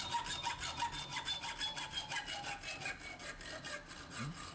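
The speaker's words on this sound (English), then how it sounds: "Use the hacksaw here to just sort of get them to the length I need." Hacksaw cuts metal grappling hook pieces to length in a steady back-and-forth rasp, close and even, each stroke a bright scraping pass with no talk.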